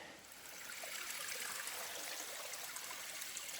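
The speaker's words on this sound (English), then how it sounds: "Hear that water running" Creek water runs steadily down a mountain hiking trail in the White Mountains near Mt. Moosilauke, a continuous close trickling and gurgling rush with no talk.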